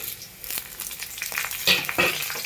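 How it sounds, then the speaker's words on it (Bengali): Whole spices crackle and sizzle in hot oil as the tempering for a mung dal cooked with a fish head, a brief close frying hiss with a few sharp pops and stirring scrapes. "ফোড়নটা আমার লাল লাল করে সুন্দর করে ভাজা হয়ে গেছে"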